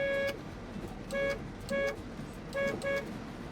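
A car horn, reported as mounted in the wrong place, honks in five short separate toots, the last two close together, fairly loud over a quiet background.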